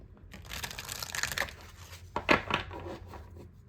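A deck of tarot cards is shuffled up close, producing bursts of papery riffling and crisp slapping flutters, with a louder cluster of snaps near the middle.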